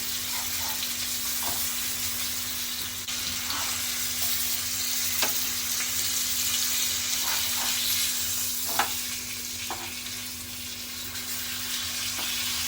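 Black creek fish frying in oil in a pan on medium heat, a steady close sizzle and hiss throughout with scattered sharp pops and crackles, no talking.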